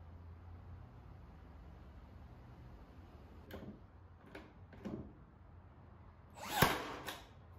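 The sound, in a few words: brad nailer attaching moulding to IKEA Tarva drawer fronts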